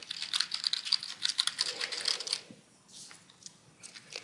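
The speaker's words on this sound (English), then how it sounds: "I'm going to clear out the current term in the search box and type patient education" A quick burst of close, crisp keystrokes on a computer keyboard as a search term is typed, followed by a few softer scattered clicks.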